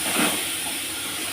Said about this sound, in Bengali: এবার ওই তেলের মধ্যে দিয়ে দিচ্ছি টমেটো বাটা একটা দিয়ে দিলাম